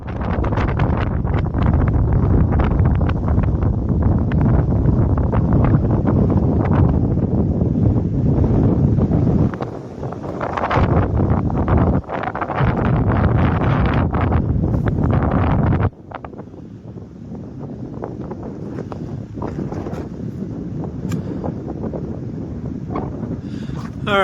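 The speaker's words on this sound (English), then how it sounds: "And now I'm on the windy side of the mountain." Strong wind roars and buffets the microphone continuously on a mountainside along the Pacific Crest Trail, loud and broadband, dropping briefly twice and easing to a steadier lower rush near the end.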